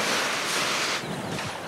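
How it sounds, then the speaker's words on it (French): Ocean waves breaking, a broad loud rushing wash that fades slightly after the first second into softer surf, with no voices. "C'est beau le bruit des vagues quand même."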